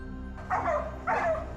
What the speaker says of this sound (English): Then came the dogs howling, closing in on another target.